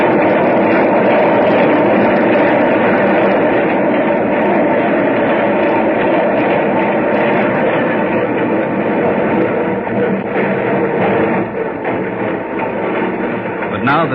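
A subway train rolling to a stop at 72nd Street station in a radio drama: a loud, continuous rumble and rattle that holds steady and eases slightly toward the end.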